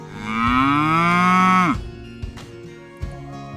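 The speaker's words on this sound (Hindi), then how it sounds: "गाय डकराती है।" A single long, loud cow moo rises and holds for nearly two seconds, then cuts off, followed by a few faint knocks and shuffles.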